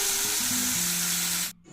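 Potatoes sizzle and fry in hot oil with salt for an aloo fry, a steady close crackling hiss that cuts off abruptly near the end.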